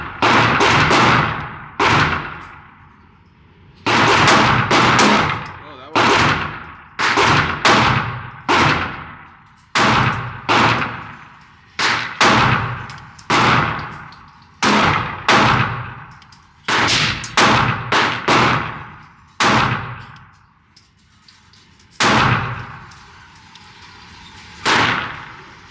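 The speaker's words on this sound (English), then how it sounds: "I've never featured an M&P Shield in the channel before. That's what we're shooting." A Smith & Wesson M&P Shield Plus pistol fires at an outdoor range, loud sharp single shots in uneven bursts over about 25 seconds, each crack followed by a short ringing decay, with no talking.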